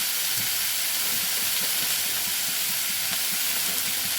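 Methi greens fry in oil in a pan with peas and potatoes, giving off a steady, broad sizzling hiss that stays constant and close throughout, with no voices.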